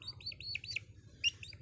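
A chick perched on a person's foot gives rapid high chirps in quick close bursts, bright and clear over a faint low background rumble.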